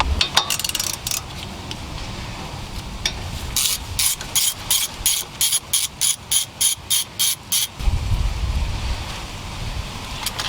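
Rapid ratchet clicks in regular bursts as a 10mm bolt is loosened on the wheel speed sensor of a Volvo during lower control arm work, close and crisp, with some handling noise before and after.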